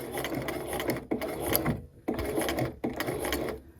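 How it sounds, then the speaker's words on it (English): A domestic sewing machine stitches along an invisible zipper in three short bursts separated by brief pauses, a close mechanical chatter with some rubbing and clicking of the mechanism. "we're going to sew 1, 2 more stitches, 3 more stitches, and then back stitch again"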